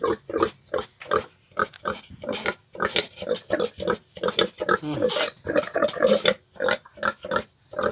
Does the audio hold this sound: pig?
yes